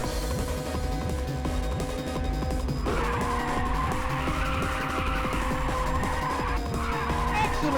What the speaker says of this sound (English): Excellent drift.